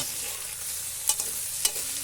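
Chinese sausage stir-fries in water with a steady hiss in a pan, broken by two sharp clinks of a utensil against the pan.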